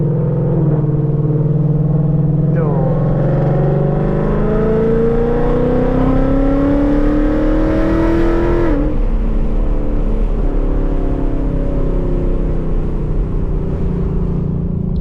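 Modified 2018 Ford Mustang GT V8 with active exhaust, heard close up as the engine revs and climbs steadily in pitch, then drops off sharply before settling into a lower, steady rumble, with no talk over it.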